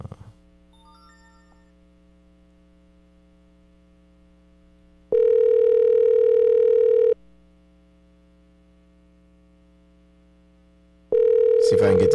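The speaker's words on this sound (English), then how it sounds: "Let me see if I can get him on the phone." A telephone line hums quietly, then a steady dial tone sounds in two long bursts of about two seconds each, separated by a quieter stretch while a call is being placed.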